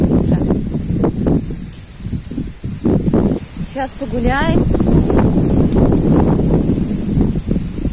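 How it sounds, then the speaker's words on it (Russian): Strong wind blows outdoors on a walk with goats, heavy gusty buffeting and rustling that swells and eases throughout, with someone talking briefly over it. "Ветрено очень."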